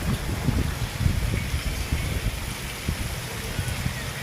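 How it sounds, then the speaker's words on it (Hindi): Steady, dense rain hisses continuously, a broad wash of noise with faint low rumbling underneath. "बारिश बहुत तेज़ है"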